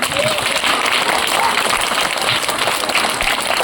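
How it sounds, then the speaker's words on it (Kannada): Children clap together in a sustained, dense round of applause that keeps going steadily from start to finish at full loudness. "ಚಂದನ ಚಪ್ಪಾಳೆ ಹೊಡಿರಿ."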